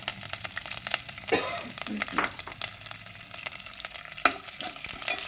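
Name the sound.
fenugreek, cumin, mustard seeds and curry leaves sizzling in tempering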